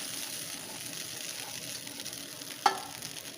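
Cooked, drained white rice tipped into a hot pan with a soft steady sizzle and stirring, then one brief sharp scrape or clink near the end, fairly quiet and with no voices.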